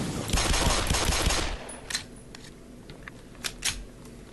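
A burst of rapid gunfire from a gun in the video game Black Mesa, loud and close for about a second and a half, followed by a few scattered sharp clicks and shots.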